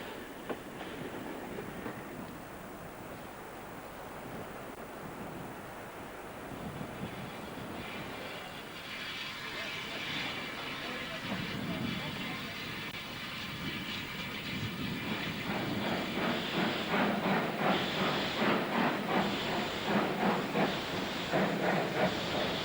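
A steam train works along a major main line, its hiss and rumble building steadily from a distance, with rhythmic exhaust beats growing louder and closer toward the end.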